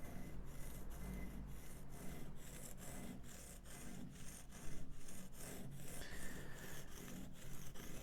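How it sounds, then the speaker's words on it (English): A woodworking gouge ground on a sharpening stone, a steady rhythmic rasping rub of repeated close strokes back and forth at an even pace. "we're going to do more work on this corner which we want to grind back."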